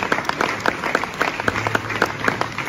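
Sparse rhythmic clapping from an audience at a gathering honouring victims and survivors, individual claps standing out in a steady beat at moderate distance, with a low murmur beneath.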